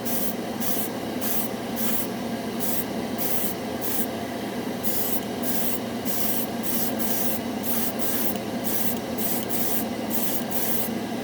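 Spray gun applying Mr. Color Super Metallic paint. A steady close hiss runs throughout, with short, brighter spray bursts pulsing on and off in a quick, regular rhythm as the trigger is pressed and released.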